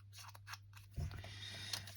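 Scissors snip through paper during an accordion-envelope craft session, a few crisp cutting crunches near the middle over a low steady hum, close and quiet.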